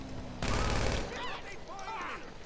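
A video game weapon fires a rapid burst of loud shots lasting about half a second, followed by excited voices talking.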